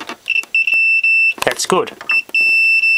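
A continuity tester's steady high-pitched electronic beep sounds in repeated stretches while checking earth to a metal body, briefly interrupted by someone speaking a couple of words and some handling noise.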